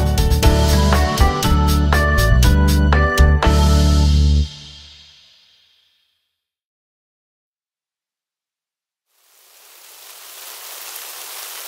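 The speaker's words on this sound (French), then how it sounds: "Oh, il pleut!" A children's song's music stops, a few seconds of silence follow, and then steady, even rain fades in near the end as a soft, continuous hiss with no other sound over it.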